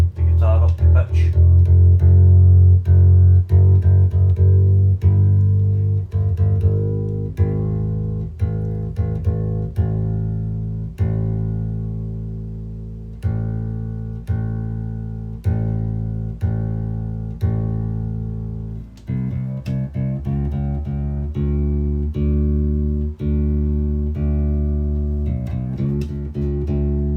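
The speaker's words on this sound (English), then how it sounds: "That's me putting the guitar up to pitch." A bass guitar is tuned up to pitch, sustained low notes repeatedly plucked and ringing out loud and close, with a short gap near the end before the notes resume.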